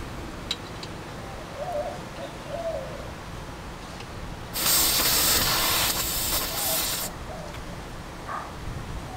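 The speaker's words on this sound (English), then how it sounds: "you can hear the air coming out" A steady, loud rush of air hisses out of a tire valve for a couple of seconds, then stops, set against quiet outdoor ambience with faint bird calls.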